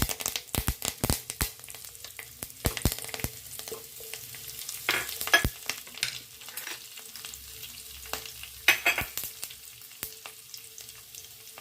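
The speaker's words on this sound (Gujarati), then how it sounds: "તેલ ગરમ થઈ ગયું છે, તેમાં આખું જીરું અને લીમડાના પાન બંને ઉમેરીશું" Whole cumin seeds and curry leaves crackle and sizzle in a few spoonfuls of hot oil in a pan, with sharp pops and spatters scattered over a steady low fry.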